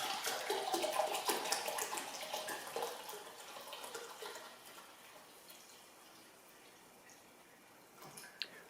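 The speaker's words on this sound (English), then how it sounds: "start measuring your vinegar" Vinegar poured into a measuring container while preparing to descale a hot water tap, a steady splashing stream that is strongest at first and tapers into quieter trickling, with a small clink near the end.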